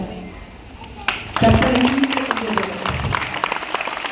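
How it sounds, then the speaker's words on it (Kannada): Loud applause from a school audience breaks out partway through and continues as a dense, crackling wash of clapping, with a voice talking over it. "ನಿಮ್ಗೆಲ್ಲ ನಿಮ್ಮಿಂದ ಜೋರಾಗಿ ಚಪ್ಪಾಳೆ"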